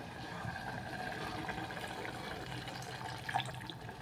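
Water is poured from a glass into rice in a pot while making tomato bath. A steady splashing pour runs for a few seconds, close and continuous.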